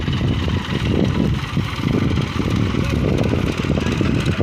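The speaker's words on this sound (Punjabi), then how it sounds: "ਆਹ ਦੇ ਮਸ਼ੀਨ ਆ ਗਈ ਅੱਜ ਮਿੱਟੀ ਵਾਲੀ ਚੱਕਣ ਲੱਗ ਪਿਆ" An earth-moving machine works a raised plot to lift soil, its diesel engine rumbling close and loud in a steady, slightly pulsing drone with no pauses.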